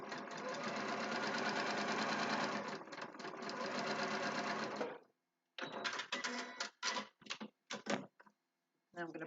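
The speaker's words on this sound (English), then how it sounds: "Bring it back to the machine, and I'm going to sew along that solid line, but I'm sewing through the seam allowance as well." Sewing machine stitching along a solid foundation paper piecing line through the seam allowance on a quilted spool-of-thread block, a steady run of about five seconds followed by several short stop-start bursts.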